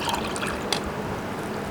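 Water is poured into homemade fresh lemonade, giving a soft continuous splashing trickle with small drips, close and moderately quiet, with no talking.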